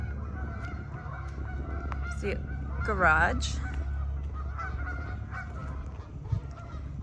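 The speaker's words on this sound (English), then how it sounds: "You hear those geese." Geese on a farm honk in a short burst of several calls a short distance away, with a person speaking briefly over a low background hum.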